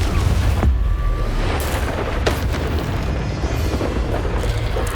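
The Confringo blasting spell going off in Hogwarts Legacy, a loud, deep booming blast with a rumbling tail, followed by a few sharper cracks.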